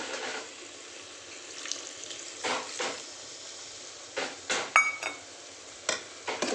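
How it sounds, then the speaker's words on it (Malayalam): Coconut milk goes into chicken curry in a hot pan, giving a steady soft sizzle with splashy pouring and stirring bursts that come and go over several seconds, close by and with no voices. "ഇനി തേങ്ങാപ്പാൽ ഒഴിച്ചു കൊടുക്കുകയാണ്"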